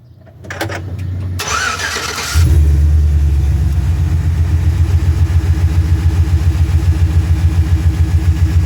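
A truck engine cranks, catches with a loud roar and settles into a steady, close, throbbing idle that runs on to the end.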